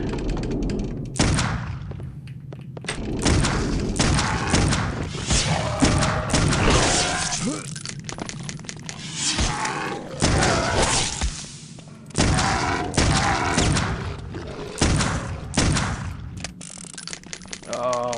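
Gunfire from the player's weapon in the horror shooter Clive Barker's Undying, fired at enemies: dense, loud, continuous game combat noise with repeated sharp bursts and thumps across the whole stretch.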